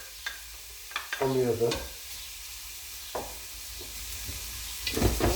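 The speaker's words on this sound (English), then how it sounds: "So these are going to sort of fry up a little bit on the one side, while the lamb is frying up" Chopped onions and lamb pieces frying side by side in a hot pan for a spicy lamb dhal curry, giving a soft steady sizzle with a few scraping stirs while someone talks over it.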